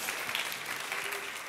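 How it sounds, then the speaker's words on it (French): A brief burst of loud, dense applause from a church audience during a sermon, a steady wash of many hands clapping together close by. "Vous pouvez applaudir pour de vrai"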